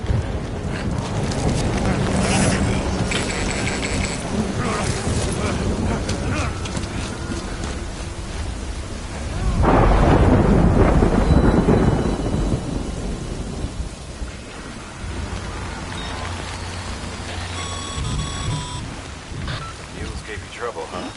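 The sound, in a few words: thunderstorm and rain in the video game Death Stranding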